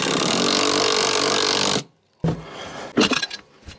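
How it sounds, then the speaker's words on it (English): Long and short screws are driven to join mitred pieces of a scrap-wood L-shaped planter: a loud, steady whirring burst of almost two seconds cuts off abruptly, followed by a pause and a few short knocks and clatters. "long screws on this side, small screws on this side, to bring them together."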